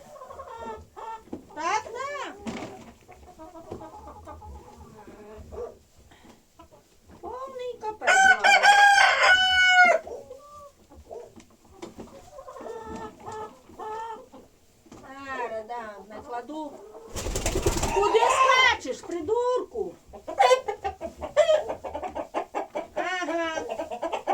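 Hens cluck and squawk repeatedly throughout, with a couple of loud rooster crows standing out close by.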